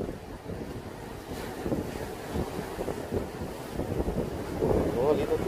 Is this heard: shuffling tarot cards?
no